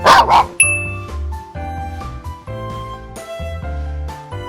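Small dog barking on a walk, a series of short sharp barks in quick bursts, close and fairly loud, with a light jingle of a tag or leash.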